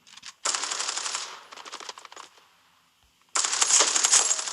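Bursts of rapid automatic gunfire in a video game, one long burst followed by a short pause and another loud, dense volley, with no talk over it.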